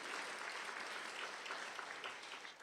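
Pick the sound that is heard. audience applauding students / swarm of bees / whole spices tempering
audience applauding students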